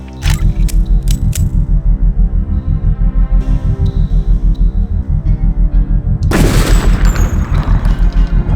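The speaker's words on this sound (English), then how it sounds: "probably the most straightforward path here is to blow up this crate of explosives" Deus Ex crate of explosives blown up: a loud, sudden burst with a broad crackling blast over a steady pulsing low game hum, the explosion tearing in abruptly near the end and ringing on.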